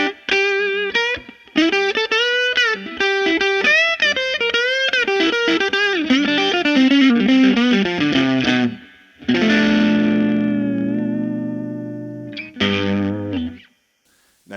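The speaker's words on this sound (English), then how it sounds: "Ampeg Reverb Rocket R12R, one of the most revered guitar combos" Electric guitar playing chords and melodic lines through a 1965 Ampeg Reverb Rocket R12R combo amp, with a warm, slightly driven tone and audible reverb tails, ending with a few strummed chords.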